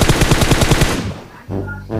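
A rapid, loud burst of automatic gunfire in the PUBG Mobile game rattles for about a second, then cuts off and leaves quieter game sounds behind.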